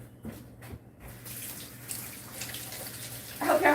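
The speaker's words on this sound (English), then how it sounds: "Let me go rinse my hands off." Hands are rinsed under a running kitchen tap, a close hissing stream of water after a few brief knocks, growing louder with splashing toward the end.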